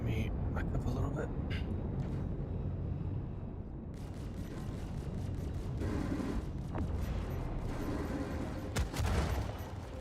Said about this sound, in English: Did a ship just crash into mine?